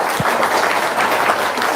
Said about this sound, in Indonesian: Wow, tepuk tangan dong, luar biasa.